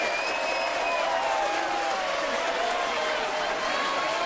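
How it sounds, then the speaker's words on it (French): Loud, dense applause fills a hall as a crowd claps to welcome someone on stage at a high school prom, with some voices and a bright tonal whistle-like line mixed into the steady roar. "je vous demande d'applaudir le roi de la console, l'aigle d'Ashley"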